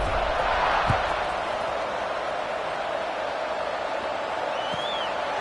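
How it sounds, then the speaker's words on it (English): A football stadium crowd at a Houston versus Arkansas game, a broad, steady roar of distant cheering and murmur filling the space without pause, with a faint whistle near the end. "this crowd is buzzing after that last score"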